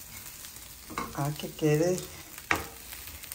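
Picadillo fries in a pan while being stirred, a low hiss and sizzle with a sharp utensil knock, partly covered by someone talking.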